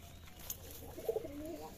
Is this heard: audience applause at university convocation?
no